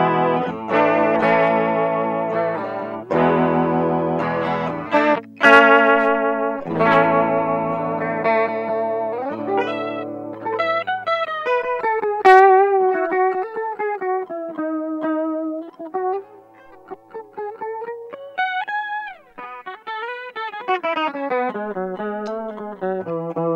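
Electric guitar through a chorus effect set very fast and intense, giving a warbling, watery shimmer: strummed chords first, then single-note melodic lines that wobble in pitch, played alone with no talk.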